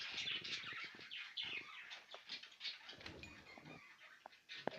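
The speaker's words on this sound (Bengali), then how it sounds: "আপনারা দেখতেছেন অ্যাডাল্ট বাজরিগার।" Adult budgerigars in a bird shop chatter and chirp continuously, a busy layer of warbling calls at close range with no talk over them.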